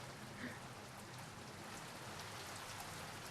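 Steady rain falling during a rainstorm, a soft continuous hiss of drops on surfaces, faint and even throughout with no voices.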